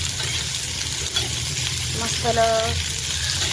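Chopped onion sizzles in a little oil in a pan for a mutton curry, a steady close-up frying hiss with a brief single spoken word over it.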